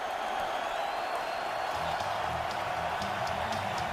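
The Philadelphia home crowd at Lincoln Financial Field keeps up a steady, unbroken roar through the 2017 NFC Championship game against the Vikings, a broad wash of noise from a packed stadium.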